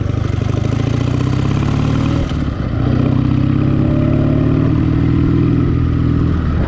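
A motorcycle rumbles steadily along a street in Dnipro as it rolls over speed bumps, its mid-pitched engine holding near and loud with a brief dip in the middle before picking up again.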